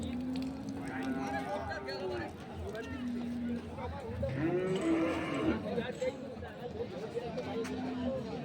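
Dairy cows moo repeatedly at close range at Ambari cattle market in Dinajpur, long low calls recurring every couple of seconds over the murmur and talk of a crowded market.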